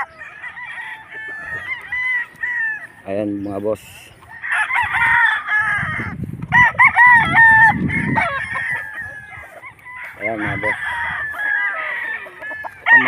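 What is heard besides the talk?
gamecocks crowing and clucking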